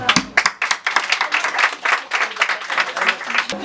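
An audience clapping at a Women's Day campaign event for a legislative election candidate, close, uneven claps building into applause, with a voice speaking over it.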